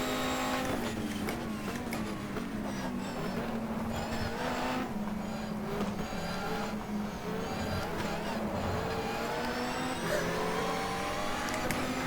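A Lister race car with a V12 engine in the GTR2 racing game at Enna Pergusa drones steadily at high revs throughout, with a continuous loud engine note and faint tire noise.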